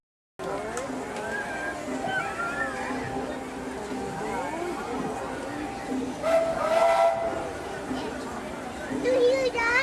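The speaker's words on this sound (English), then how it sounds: "It's a choo-choo." A steam train whistle on a Disney theme park ride sounds in a tuneful, wavering blast amid the ride's music, effects and voices, rising louder near the end.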